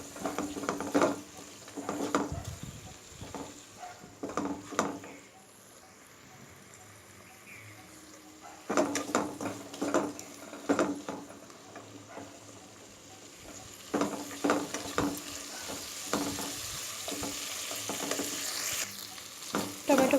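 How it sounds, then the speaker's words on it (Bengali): Chopped tomatoes fry in a pan for a Bengali jackfruit curry, a soft steady sizzle broken by bursts of spoon-scraping as they are stirred every few seconds. "টমেটোটাকে একটু ভাজা ভাজা করব।"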